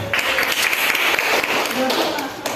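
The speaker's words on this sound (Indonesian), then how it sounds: "Tepuk tangan." A vocational high school class in Masbagik claps during a microteaching lesson, a short burst of scattered hand claps mixed with a noisy room and a voice talking over it.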